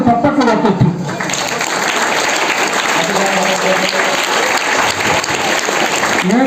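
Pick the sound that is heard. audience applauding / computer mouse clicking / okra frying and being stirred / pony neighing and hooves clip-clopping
audience applauding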